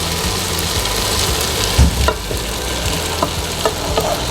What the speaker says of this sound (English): And now I'll be adding the rice.